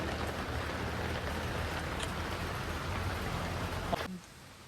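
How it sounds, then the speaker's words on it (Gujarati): Rain falls as a soft, continuous broadband hiss that runs steadily and then drops off sharply near the end. "તો વરસાદ તો આવે છે"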